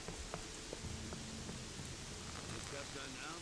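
Steady rain in the fantasy game Gothic 3: a dense, even hiss of falling drops with faint scattered patters throughout and no voices.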